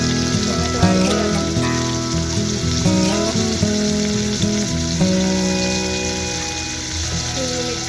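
Tomatoes and chilli sizzle steadily in a hot pan for mixed dal khichdi, a continuous close frying crackle throughout with music underneath.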